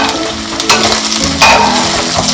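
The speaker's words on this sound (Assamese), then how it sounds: "আৰু বিলাহীখিনি দি আকৌ ভাজিম" Mutton frying in its own fat with onion paste, ginger-garlic paste, potatoes and tomatoes for a spicy curry: a loud, steady sizzle broken by two scraping stirs.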